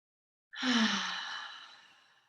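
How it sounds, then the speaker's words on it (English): A single deep breath drawn in, then released as a long audible sigh that slowly fades, close and alone in an otherwise quiet room. "So take a deep, deep breath in."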